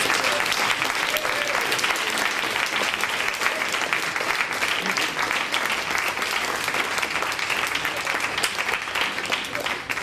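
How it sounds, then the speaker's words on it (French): An audience claps at a literary prize ceremony for young authors in Vernier, producing a long, dense, steady round of applause that holds at an even level for the full ten seconds. "J'applaudis."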